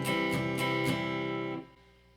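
A few quick guitar strums played with a loosely held pick ring out in a loose, even rhythm, then the chord sustains and fades. Close and clear, with no voices.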